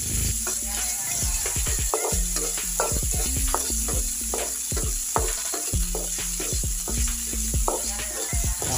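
Ginger fries loudly in a pan for salmon sinigang while a spoon stirs it, giving a constant close sizzle broken by repeated scraping strokes. There is no speech.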